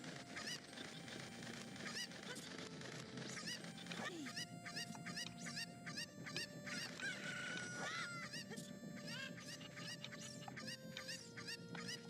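A cucco, the chicken of Zelda Ocarina of Time, crows loudly and repeatedly over steady game music and clucking, the calls stacking in quick succession.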